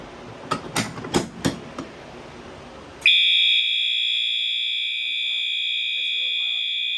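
A building fire alarm system goes off after a pull station is activated during a test: a loud, steady electronic tone cuts in abruptly and holds continuously, following a few sharp knocking sounds and brief talk.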